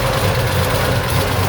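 A 1986 Monte Carlo SS with a fresh 383 stroker engine idling close by, a loud, steady low rumble with no talking over it.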